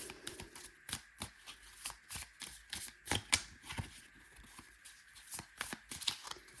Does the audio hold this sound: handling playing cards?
yes